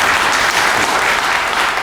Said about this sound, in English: give yourselves a round of applause for that again